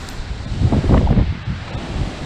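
Hurricane Isaias wind roaring across a flooded canal with surf washing over the bulkhead and a dock underwater, a continuous loud buffeting rush with gusting surges and mic wind noise, no talking.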